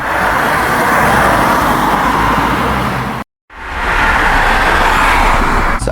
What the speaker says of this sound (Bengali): আমি গাড়ির সাউন্ড ক্রিয়েট করার জন্য প্রম দিয়েছিলাম এবং সেই অনুযায়ী সে সাউন্ডটা ক্রিয়েট করে দিয়েছে